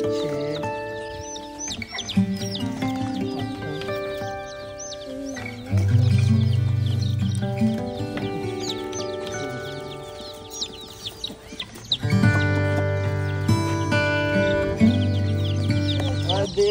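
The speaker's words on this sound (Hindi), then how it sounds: "अभी देखते हैं भाई के पास कितने चूजे हैं" Colourful chicks being bought from a seller, with a busy flock of nearby fowl clucking and chirping continuously, some loud close calls and overlapping bird noise, without clear speech.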